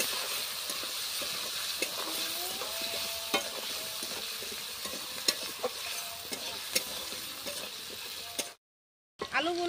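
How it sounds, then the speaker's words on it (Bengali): Potatoes with green chillies and onions are stirred and fried in a pan with a continuous close sizzle and hiss, broken by repeated scraping and clinking of a spatula, then a brief silent gap near the end. "ভালোভাবে আলুগুলোকে কষাতে হবে"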